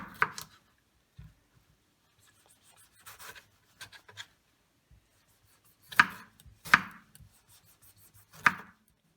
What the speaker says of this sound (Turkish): İyice yıkadığımız ve soyulmamış domatesleri alıp ince ince doğramaya başlayacağız.